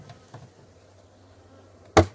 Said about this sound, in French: je tape mon nourrisseur pour faire tomber les abeilles